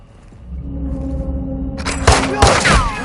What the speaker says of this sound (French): Le coup de feu les a alertés.